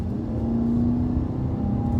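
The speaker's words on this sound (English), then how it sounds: "So you can hear that engine. You can definitely hear it coming on song here." A 2021 Toyota Venza hybrid with all-wheel drive accelerating uphill, its engine giving a steady, rising drone with a whirring tone, close and continuous with no talk over it.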